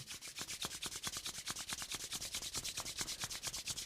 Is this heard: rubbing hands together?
yes